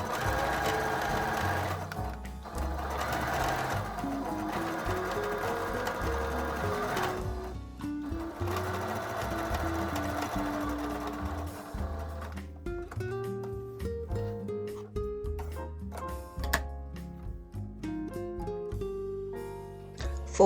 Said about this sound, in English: Fold it in and also stitch to strengthen the bottom of your bag.